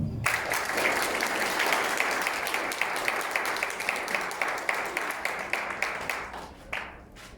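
An audience at a taekwondo belt ceremony gives a steady round of clapping to welcome a taekwondo master, many hands at once, fairly loud, thinning out toward the end.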